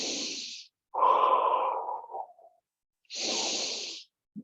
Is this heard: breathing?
yes